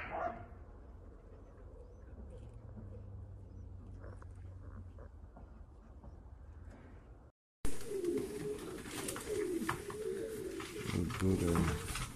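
Uzbek pigeons coo in short low repeated calls, faint at first and then louder and closer after a brief cut, with rustling and handling noise around them.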